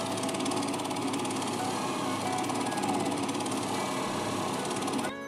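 A faceting machine polishes the table of a gemstone on a lap, giving a steady, dense whirring grind with a constant hum throughout, close and loud, stopping abruptly at the very end.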